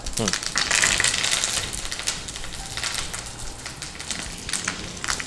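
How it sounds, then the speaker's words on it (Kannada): Curry leaves dropped into hot oil for tempering crackle and sizzle in a broad, rain-like hiss, loudest at the start, then steadier with scattered pops, while someone talks over the cooking. "ಒಗ್ಗರಣೆ ಸೊಪ್ಪು ಹಾಕುವ."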